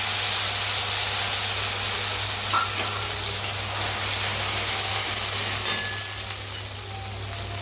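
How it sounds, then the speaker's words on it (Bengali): Spice paste frying in hot oil for a jackfruit cutlet, giving a steady close sizzle and hiss throughout with a constant low hum beneath and no talking. "সেটা পেস্ট করে নিলাম, তেলের মধ্যে দিয়ে দিলাম"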